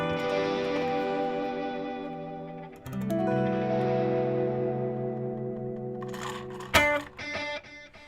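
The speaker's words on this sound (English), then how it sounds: "So you can hear that it's distorting there." Electric guitar pushed through a distortion effect plugin, sustained overdriven chords ringing with heavy harmonic buzz, a chord change near three seconds, then choppier strummed stabs and a sharp pick scrape toward the end, loud and alone.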